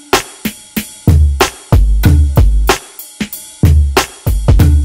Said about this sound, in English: this drum loop sounds like this